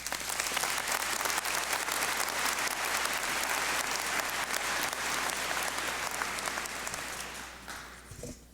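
Sustained audience applause fills a university graduate commencement hall, a dense steady roar of many clapping hands lasting several seconds before tapering off at the end.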